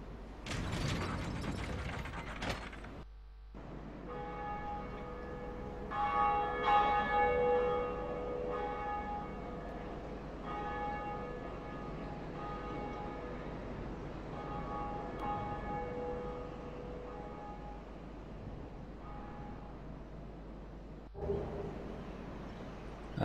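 A large church-style bell in the Dark Souls video game rings again and again with long sustained tones, layered over grinding, ratcheting mechanical gears and creaks, steady and fairly loud throughout, with no talking.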